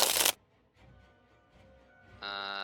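Playing cards shuffled during a tabletop card game session, a brief loud burst of riffling at the start, followed by quiet rustling and then a sustained tonal electronic chime near the end.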